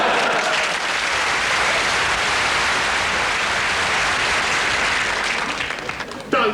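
Loud, sustained audience applause mixed with cheering fills a comedy show stage performance, steady and dense throughout before tapering slightly near the end.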